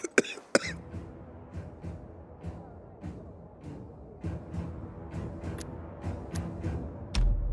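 A character coughs repeatedly in the video game Dying Light 2, sharp dry coughs recurring at a steady rhythm over a low ambient background, with a few louder hacking bursts at the start.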